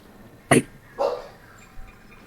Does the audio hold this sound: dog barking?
yes